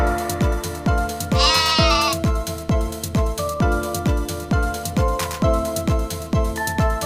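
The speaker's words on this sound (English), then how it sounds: "G for goat." A single goat bleat rises clearly over a cheerful, rhythmic children's phonics song with a steady thumping beat.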